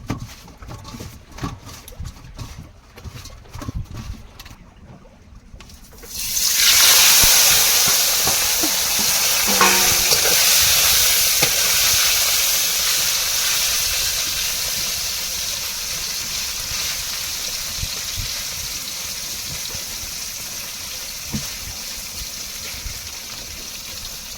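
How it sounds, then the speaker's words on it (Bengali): Fish drops into hot oil in a pan: after a quieter stretch of faint handling noise, a sudden loud sizzling hiss bursts in and continues steadily, slowly easing off over many seconds. "মাছ ভাজা হয়ে গেছে"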